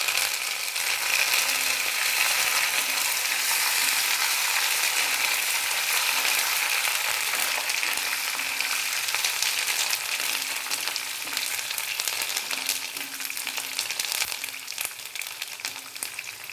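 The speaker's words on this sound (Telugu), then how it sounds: "ఇప్పుడు మనం కరివేపాకు వేసుకుంటాము" Curry leaves hit hot oil in a pan, setting off a loud, steady crackling sizzle that continues unbroken, with bright spattering hiss throughout and no voices.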